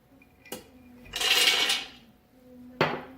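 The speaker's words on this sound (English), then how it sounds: "the first thing I'm going to do is add in our cup of almonds and chop them up in the Thermomix." A cup of almonds tipped into a Thermomix bowl: a sharp clunk, then about a second of rattling, skittering nuts pouring in, followed by a second clunk, all close and fairly quiet.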